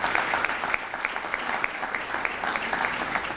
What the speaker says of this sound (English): So round of applause for Mayor Jim Darling